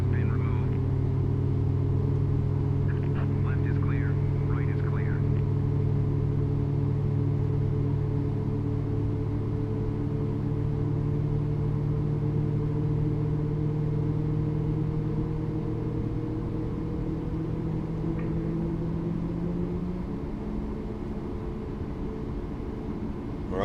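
Twin jet engines of a Boeing 737 MAX 8 in a flight simulator game produce a steady, loud low hum with layered tonal whine, holding constant throughout before easing slightly near the end, with faint voices in the background.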